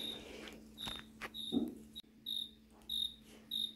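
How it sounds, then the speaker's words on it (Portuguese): A cricket chirps in short, repeated bursts, faint and close in a quiet indoor setting, with a small rustle partway through. "Ó, que barulho é esse? É o grilo?"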